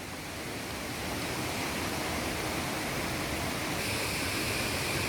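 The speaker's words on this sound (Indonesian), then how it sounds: "Ini salah satu air terjun terbaik yang ada di Aceh Utara, yaitu air terjun Blangkolam." Blang Kulam waterfall in North Aceh, a broad steady roar of falling water that is loud and close, swelling slightly at the start and then constant, with no voices.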